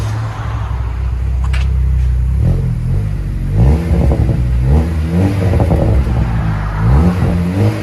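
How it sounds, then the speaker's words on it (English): A Chevy Malibu LT with a 1.5L turbo engine and a muffler delete with turn-down tip revs repeatedly from a steady idle, each loud throttle blip rising and falling in a series of bursts, close by. "There's the muffler delete we did about a week ago with a turn down."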